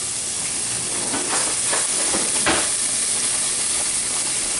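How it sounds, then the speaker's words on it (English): Chopped onion sweats in hot bacon grease with pieces of bacon for a pasta carbonara, giving a loud, continuous sizzle and hiss with a few scraping stirs, no talk. "So some onion sweating in the bacon and in the bacon grease"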